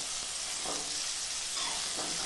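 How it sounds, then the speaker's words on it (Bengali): Loud, continuous sizzle of vegetables, including pointed gourd, frying in oil, with faint stirring noises mixed in. "এখন বাকি সবজিগুলো ভেজে নেব"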